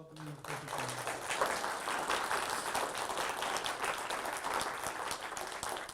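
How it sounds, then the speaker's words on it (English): A lecture audience claps warmly to welcome a professor, dense and sustained applause from a large room that stays even throughout, with a voice briefly heard at the very start. "Give me a warm round of applause."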